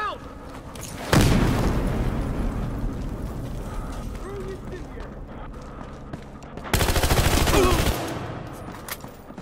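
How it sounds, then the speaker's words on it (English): Battlefield Hardline gameplay: two loud grenade blasts, one early and one late, set against bursts of sustained gunfire and rumbling battle noise throughout, with shouted voices mixed in. "Grenade is out!"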